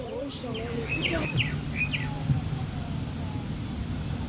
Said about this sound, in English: I can hear an interesting bird.